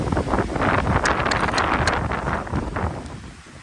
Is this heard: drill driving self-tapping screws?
no